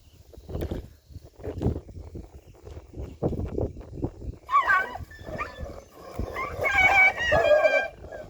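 A dog howls and whimpers close by in a long, uneven series of cries, with high, wavering whines growing louder toward the end.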